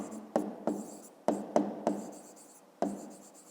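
Handwriting on paper while working a fifth-grade maths exercise: six or seven quick scratchy pen strokes in uneven bursts, close and isolated with no talk.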